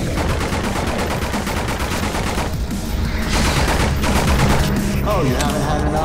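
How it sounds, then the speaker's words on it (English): Rapid submachine gun fire in the horror shooter Nightmare House 2, dense bursts of shots running continuously and loud with in-game noise layered around them. "Let's just switch over to the SMG instead."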